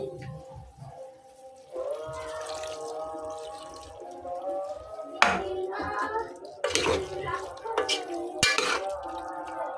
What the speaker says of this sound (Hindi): थोड़ा सा पानी डाल देते हैं।